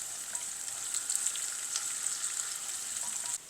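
Garlic, green and red chillies and the white part of spring onion roast in a pan for Chinese garlic chicken, hissing in a bright, steady sizzle close by that drops away just before the end.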